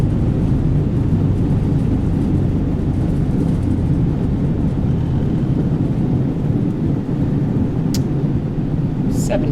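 An airliner's engines roar in reverse thrust as it decelerates after landing at Tokyo Narita in Microsoft Flight Simulator 2020, a loud, sustained rumble with a couple of brief clicks near the end.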